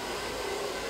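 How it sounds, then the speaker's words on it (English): A handheld blow dryer runs steadily at close range while drying and smoothing long hair during a blowout, giving a continuous, even whoosh of airflow with no talk over it. "I use the underneath part of my blow dryer"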